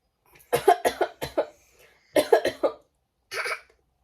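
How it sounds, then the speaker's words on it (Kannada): A baby coughs in short fits, a quick run of four coughs, then three more, then a single final cough, close and fairly loud with quiet gaps between. "ಕೆಮ್ಮು ಬಂದ್ಬಿಡುತ್ತೆ ಅವನಿಗೆ"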